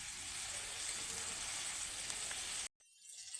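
Cauliflower florets frying in hot oil give a steady, bright sizzle and crackle that cuts off abruptly near the end, leaving a faint hiss.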